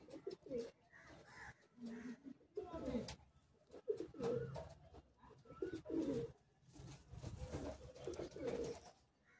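Madrasi pigeons coo at a home loft in Bagnan. Soft, low, throaty coos repeat in overlapping phrases close by, fairly quiet throughout.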